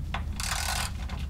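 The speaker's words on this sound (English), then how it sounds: "we can go ahead and tighten all the bolts that are going into the skid plate with a 13mm" Short ratchet clicks from a 13mm socket tightening aluminum skid plate bolts on a Jeep Gladiator, a quick handful of faint ratcheting strokes over a low steady background hum.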